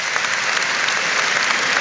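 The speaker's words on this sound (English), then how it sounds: "the round of applause is from all sides of the ground" A football crowd at a Wigan versus West Ham FA Cup match applauds from all sides of the ground as an injured player is stretchered off, a loud, dense, continuous wash of clapping filling the stadium.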